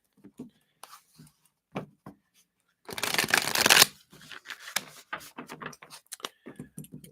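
A deck of tarot cards riffled in one quick, crisp burst, with soft, quiet speech and small handling sounds before and after.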